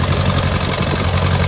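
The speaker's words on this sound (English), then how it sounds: "Here's a Farmo International 504 gas tractor." A Farmall International 504 gas row crop tractor engine runs at a steady idle, a close, continuous low rumble with constant loudness throughout.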